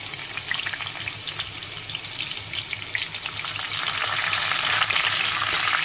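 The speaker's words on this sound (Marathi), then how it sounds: "जिरं चांगलं तडतडलं की त्यावर आपल्याला लसूण, कढीपत्ता, टाकायचा आहे।" Garlic and curry leaves dropped into hot tempering oil for a moong dal sabzi, crackling in a steady, close, loud sizzle that grows denser and brighter toward the end, with no talking.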